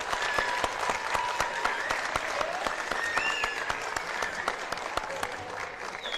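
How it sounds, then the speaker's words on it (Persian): A studio audience at a Khorasani music broadcast claps steadily for several seconds, forming a dense, even patter of many hands at moderate volume, with no voices over it. "تشویق کنید خودتون رو، خواهش میکنم."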